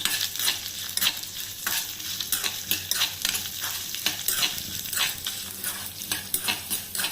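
Dried red chillies and cashews roast in a pan, giving a steady soft sizzle broken by repeated scraping strokes of a spoon stirring them, close and clear, with no talk.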